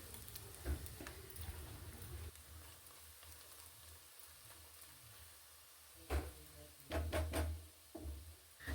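Frying in a pan for Kerala-style kalthappa gives a low, steady sizzle, broken by several sharp knocks and clatters near the end. Close and fairly quiet, with no talking.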